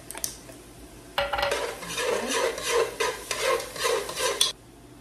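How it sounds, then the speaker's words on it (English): Minced garlic frying in a pan while being stirred, heard as a series of close scraping and stirring strokes over a light sizzle, starting abruptly and then stopping. "While this is cooking, I'm gonna add in the garlic."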